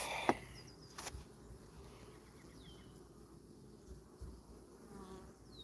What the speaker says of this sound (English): Now, a little more smoke to drive the bees a little further.